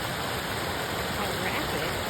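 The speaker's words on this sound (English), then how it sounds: "The new river flowing." Fast river rushing through a forest, a dense, unbroken roar of water close by that fills the whole clip evenly.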